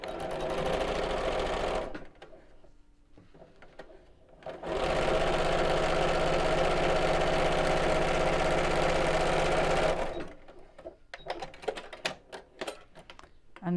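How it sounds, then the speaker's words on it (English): A sewing machine runs steadily across the base of a fabric circle pouch, a short burst of stitching first, then a pause with light handling, then a long continuous run before stopping amid faint clicks. "I'm going to sew all the way across the base here"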